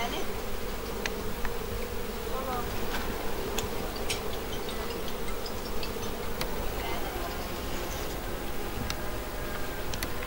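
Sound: bees buzzing in a village

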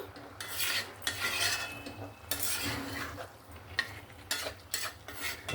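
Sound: stirring fish-head cabbage curry in pan with water

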